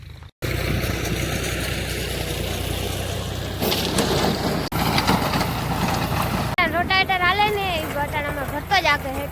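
A tractor engine runs with a rough, steady rumble, joined partway by the clattering of a rotavator; voices talk over it near the end.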